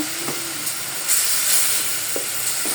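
Dried fish (shutki) sautéed with garlic paste sizzles loudly and continuously in a village kitchen pan, with brief stirring clinks over the steady hiss.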